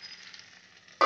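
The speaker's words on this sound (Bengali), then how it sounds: "পটলগুলো হলুদ দিয়ে ভালো করে ভেজে নিচ্ছি" Pointed gourd fries in hot oil with turmeric, giving a soft steady sizzle that ends in a sudden louder hissing burst.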